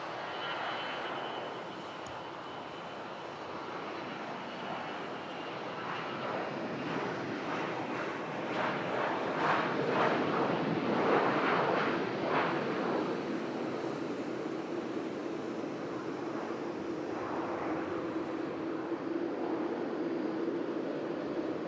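Juneyao Airlines jet airliner bound for Shanghai, heard at Manchester Airport as a steady, broad engine roar that swells toward the middle and then holds, mid-distance, with no voices.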